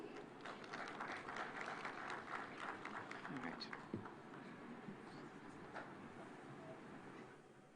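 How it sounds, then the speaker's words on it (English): A conference audience in Homa Bay claps in a dense round of applause that peaks early and gradually thins out, with a voice speaking faintly over it. "A round of applause for him, please."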